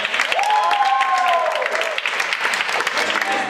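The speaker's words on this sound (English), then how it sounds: "let's give Christian a round of applause" An audience applauds an actor at a live theatre performance with a sustained, loud round of clapping that continues evenly throughout, while a voice calls out briefly over it.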